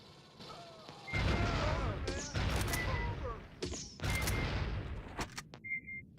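Rapid bursts of gunfire in the Aliens versus Predator Classic 2000 video game, dense crackling volleys with short gaps, then a single electronic tone near the end.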